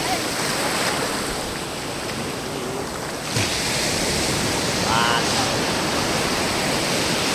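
Rough sea at Murud Beach: a continuous, loud roar of crashing, foaming waves with wind noise, swelling slightly midway and washing over everything, with faint traces of voices.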